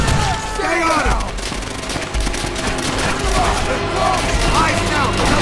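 Rapid machine gun fire in Call of Duty: World at War rattles in dense, loud bursts through a noisy battle, with shouted voices and other combat sounds mixed in.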